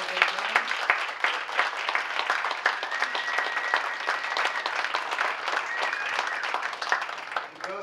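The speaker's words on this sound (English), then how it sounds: "I think they deserve a wonderful applause for what they've done." An audience applauds the Girl Scouts of North Reading at a town ballot questions forum, giving steady, dense clapping that holds for the whole stretch at moderate volume, with a few voices faintly mixed in.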